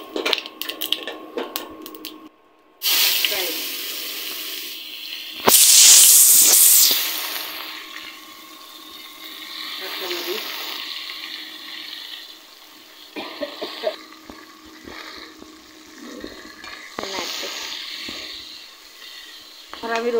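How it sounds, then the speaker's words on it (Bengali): Whole cumin seeds crackle in hot oil left over from frying pangas fish, with bursts of loud sizzling between quieter stretches of pan handling and faint kitchen clatter. "আমি মাছ ভাজার তেলে এখন একটু গোটা জিরার ফোড়ন দিয়ে দিলাম।"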